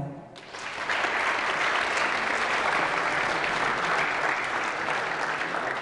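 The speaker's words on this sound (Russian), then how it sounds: "Поэтому прошу эти аплодисменты именно для вас." An audience at a Komi Republic gathering breaks into applause, a dense steady clapping that rises quickly and holds at full strength for several seconds.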